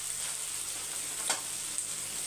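Onions fry in a pan with a steady, close hiss of oil, bright and even throughout, broken only by one or two small pops and a light stir, with no voices.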